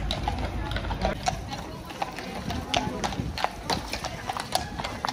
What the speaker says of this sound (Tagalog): Kabayo dito.